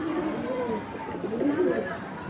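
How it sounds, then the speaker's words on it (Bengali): Maidom pigeons coo close by in low, throaty, repeated rolling calls over a steady background hum, with faint voices in the surroundings. "এটাকে বলে মাইদম কবুতর।"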